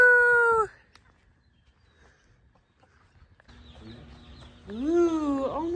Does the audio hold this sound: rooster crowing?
yes